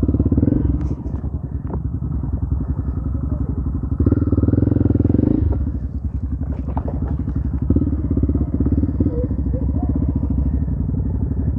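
Motorcycle riding on a muddy forest trail: a near engine drones steadily with rising and falling revs, brief clatter and thumps from the rough ground, and occasional voices beneath.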